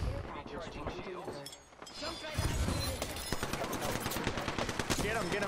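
Apex Legends gunfire rattles in dense bursts, loudest and most continuous through the second half, with voices talking over the shooting.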